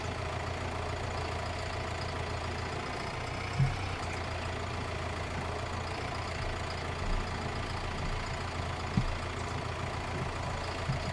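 Steady idling rumble of a four-wheel-drive tractor engine in Farming Simulator 19, a low continuous drone with a few faint knocks, no talking.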